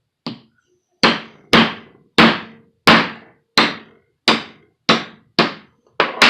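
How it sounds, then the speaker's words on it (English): A small ball peen hammer taps on a CV head yoke during assembly, producing about ten crisp, evenly spaced metallic strikes up close, each ringing briefly before the next blow. "Small ball peen hammer again."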